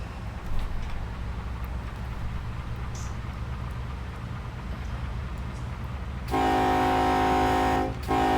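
A diesel locomotive in the Run8 train simulator, a BNSF freight train near Seligman, with a steady low engine rumble that swells as it throttles up, then a loud sustained horn blast near the end.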